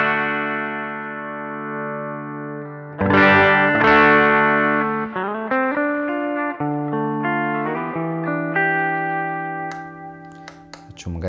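Electric guitar played through a custom JD Stomps overdrive pedal set to low gain, with the volume raised a little: sustained chords and picked notes, mildly driven and fairly loud, heard alone with no talk.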